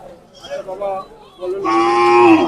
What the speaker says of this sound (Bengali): আপনার কুরবানি উপযোগী গরু, বহুত গরু উঠছে।